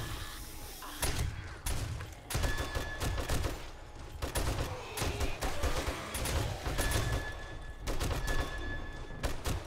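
Player firing a gun in the video game 7 Days to Die, rapid repeated shots in close, loud bursts with brief gaps, alongside thumps and other game noise throughout.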